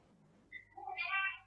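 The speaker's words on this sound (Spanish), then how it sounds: "anda mi gato por aquí." A pet cat meows close by, a rising, drawn-out call lasting about a second over a quiet room with a faint low hum.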